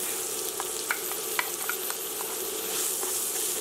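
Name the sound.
onion and garlic frying in olive oil in a pan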